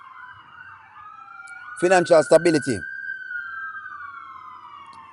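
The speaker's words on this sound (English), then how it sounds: "We have a lot of sirens around." An emergency vehicle siren wails in a long, steady tone on a Los Angeles street, moderately distant and sustained throughout, while someone speaks briefly over it in the middle.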